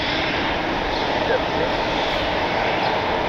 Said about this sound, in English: Looking directly ahead, we got an American Airbus A320 pushing back.